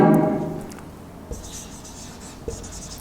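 A marker or chalk scratches out a sentence on a classroom board in short, close strokes, with faint taps between them and no talking.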